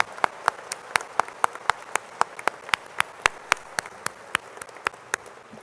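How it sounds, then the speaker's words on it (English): Sparse, evenly spaced hand claps at a University of California, Irvine event with the Dalai Lama greet the vocalist and flautist. About twenty crisp, separate claps sound fairly close in a steady rhythm over a quiet background. "let's give a round of applause for our vocalist, Yuchen Lamo, and our flautist,"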